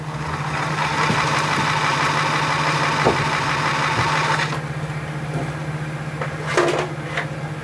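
A wood lathe turns a bowl blank at about 350 RPM, giving a steady mechanical hum with a constant low tone. A higher whir fades after a few seconds, followed by faint scraping taps.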